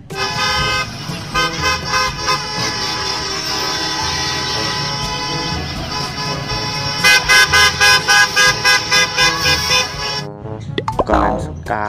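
A toy school bus plays electronic engine sounds and music, ending in a run of rapid repeated horn toots, loud and close, with no talking.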